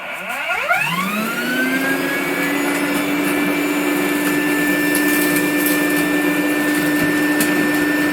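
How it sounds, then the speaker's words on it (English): A Rainbow vacuum cleaner motor spins up with a rising whine, then runs steadily and loudly with a constant high-pitched drone and airy rush, vacuuming out a dryer vent. "I'm actually going to vacuum out from in here"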